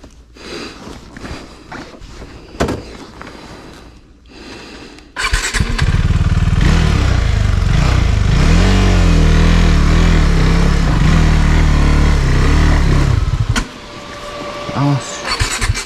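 A motorcycle engine starts abruptly after some handling noises and then revs loudly and steadily close by for several seconds before dropping back to a lower idle, with a voice heard around it.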